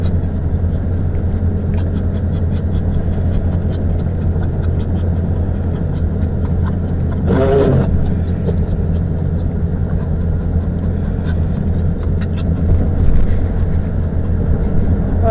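A car drives through an Oklahoma City ice storm with a steady low engine and road drone throughout, a brief louder rushing swell about halfway through, and faint ticking and clicking above the hum.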